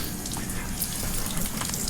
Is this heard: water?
yes